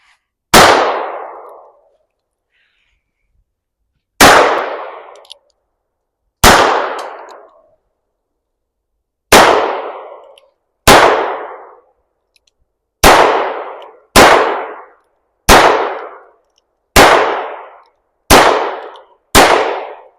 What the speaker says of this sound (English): First up, we have Heritage Rough Rider, 22 Winchester Magnum.